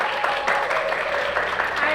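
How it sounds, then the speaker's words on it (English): An audience in a college courtroom-style auditorium applauds to welcome a valedictorian speaker, a sustained, fairly loud wash of clapping with faint voices mixed in. "Give her a round of applause"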